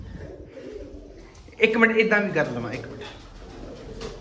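Pigeons coo in a loft, a low throaty warble that swells loudly midway and then fades, with someone talking before the cooing.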